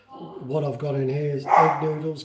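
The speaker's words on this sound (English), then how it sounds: "oh, here we go, that's my dog, security at the front." A dog barks briefly in the background of a home kitchen while someone talks over it during a cooking stream.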